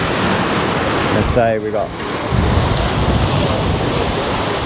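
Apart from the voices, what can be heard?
wind and waves while sailing an HH44 catamaran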